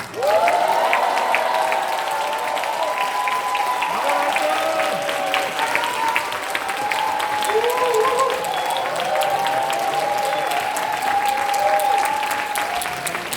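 A concert audience in a Seongsan Art Hall performance of film music claps and cheers loudly and continuously, with shouting voices rising above a thick, sustained roar of applause.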